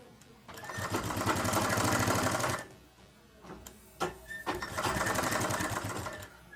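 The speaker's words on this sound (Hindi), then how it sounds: "इसके बराबर सिलाई लगाते चले जाए।" A sewing machine stitches a baby shirt in two close, rapid runs of whirring, rattling needle strokes, with a short pause and a few clicks between them.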